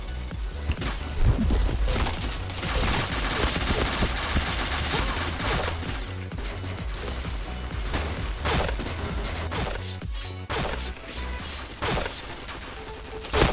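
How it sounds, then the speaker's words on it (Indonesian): Gunfire in the shooter video game Point Blank, rapid bursts of automatic shots and impacts layered over game music, fairly loud and continuous with occasional louder cracks. "Banyak kali nembakin aku, bah."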